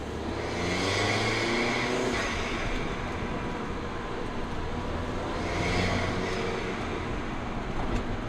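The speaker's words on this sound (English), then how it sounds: "you're going to be able to hear the intake bringing in that cool air right there" Intake roar from an Alfa Romeo 4C's four-cylinder engine, mounted beside the passenger side, drawing in air as the car drives. It is a steady, loud rushing drone that swells twice, with no talking over it.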